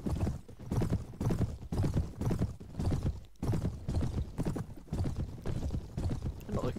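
Cavalry horses riding out in the strategy game Clash of Kings, a steady rhythmic clip-clop of many hooves at a trot, loud and continuous with a brief gap midway.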